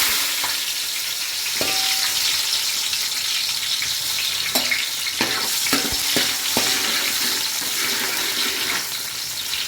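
Onions and green chillies fry in hot oil for a biryani, giving a loud, continuous close sizzle broken by several sharp clanks of a spoon stirring against the pan.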